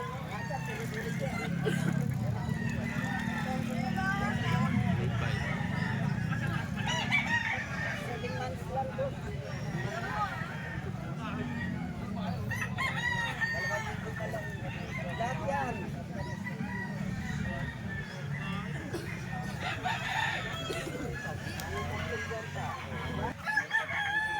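Stag roosters crow repeatedly at a market, their calls rising over a constant bed of voices talking and general crowd and vehicle noise.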